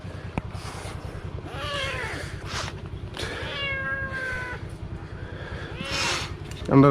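A cat meows several times, its drawn-out cries rising and falling over a steady low mechanical drone, with a person speaking nearby.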